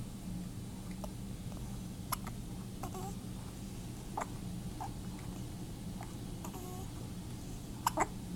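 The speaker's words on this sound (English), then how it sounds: "You got the hiccups?" A baby hiccups in a quiet room, about eight short, faint hiccups spread unevenly across the stretch over a low background hum.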